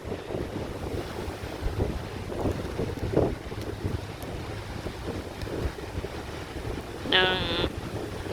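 Steady wind buffeting a microphone outdoors near water at Victoria Point, with a low rumble throughout and a brief higher whine near the end.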